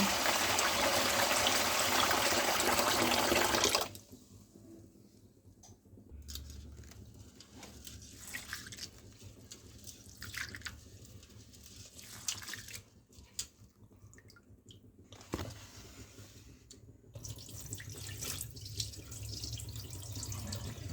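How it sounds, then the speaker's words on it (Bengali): Half a kilo of fragrant kasturi rice with some whole paddy grains washed in a kitchen for date-palm juice payesh, with tap water running loudly at first, then quieter splashing, swishing and drips close by. "চালটাকে ভালোভাবে ধুয়ে নেব"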